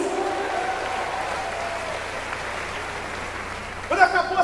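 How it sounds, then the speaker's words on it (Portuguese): A church congregation claps steadily in a continuous wash of applause, with a voice speaking over it at the start and again near the end. "dá uma salva de palmas ao seu bem alto em nome de Jesus."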